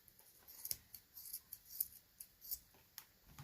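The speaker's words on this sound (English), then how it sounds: "you're going to trim off that top." Scissors snip off the top of a plant in a series of quiet, crisp cuts, about a dozen short metallic clicks in an uneven rhythm, close up in a hushed room.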